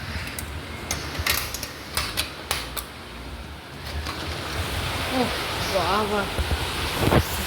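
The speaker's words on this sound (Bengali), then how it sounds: "কি জোরে বৃষ্টি এসেছে খুব জোরে বৃষ্টি পড়ছে" A broad, steady wash of heavy rain roars throughout, with sharp clicks and knocks early on and a voice talking briefly near the end.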